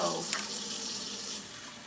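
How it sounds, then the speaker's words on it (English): Warm water poured in for homemade peanut sauce, a short close splash and trickle into the bowl that quickly softens to a faint hiss. "So you just want to gradually add some water."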